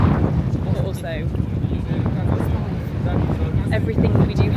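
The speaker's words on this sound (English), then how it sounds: "You probably can't hear a word I'm saying because it's so windy." Strong wind buffets a microphone aboard a sailboat, a loud, rumbling roar that gusts unevenly while a person talks over it.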